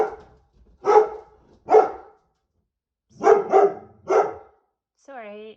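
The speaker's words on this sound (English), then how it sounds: "you also know that I have two dogs and sometimes they bark" Two household dogs barking in short, loud bursts, two barks then a tight cluster of three, close by indoors, followed by a brief whine at the end.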